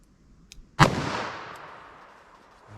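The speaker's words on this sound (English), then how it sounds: "So let's hit our ballistics gel block and see how these compare." A .357 Magnum round, 125 gr Corbon JHP, fired into a plain ballistics gel block: one sharp, loud report with a long decaying tail, preceded by a faint small click.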